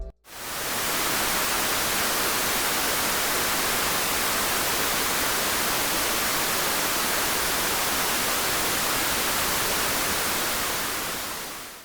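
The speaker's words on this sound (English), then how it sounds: "Here's what white noise sounds like." Steady white noise sample, a loud, even broadband hiss that starts abruptly and holds constant for about twelve seconds with no other sounds.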